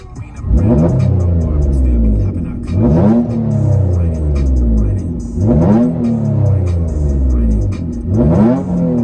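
Heard from inside the cabin, a 2005 Mitsubishi Eclipse V6 with an exhaust fitted with Vibrant bottle resonators revs and pulls loudly through repeated gear changes, the engine note climbing and dropping about four times.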